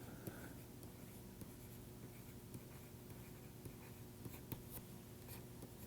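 Pen or chalk writing on a page during a structural dynamics lecture, faint continuous scratching strokes with soft taps, alone and quiet throughout.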